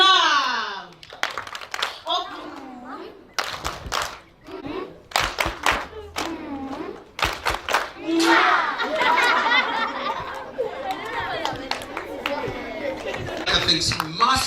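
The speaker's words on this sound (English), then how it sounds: "we're going to do a love clap" Schoolchildren at a Universal Children's Day celebration in Kololo clap together in a love clap, sharp bursts of hand claps in rhythmic groups mixed with excited kids' chatter and laughter, with an adult speaking between the claps.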